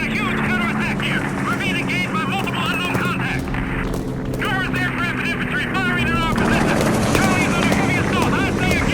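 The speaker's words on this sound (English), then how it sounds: "multiple transport helicopters and gunships begin heading our way" Steady rumbling drone of approaching CSAT military transport helicopters and gunships in the video game Arma 3 fills the scene, with voices and scattered battle noise over the top.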